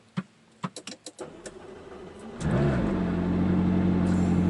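A few sharp clicks, then a Ferrari car engine cranks and fires up from a cold start, settling into a loud, steady idle nearby.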